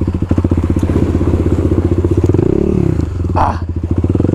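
A supermoto motorcycle's single-cylinder engine runs close and loud at steady idle-to-mid revs through a practice 180-degree turn, with a short throttle rise and a brief scrape near the end.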